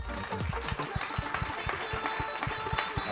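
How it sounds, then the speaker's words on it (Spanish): Audience applause at a televised gala for a regional TV channel's programming presentation, a dense run of claps with steady loudness that carries on throughout, with a voice over it. "Un aplauso para Daniel Alfajeme, Jessica Cañón y Emma Rosa Posada García."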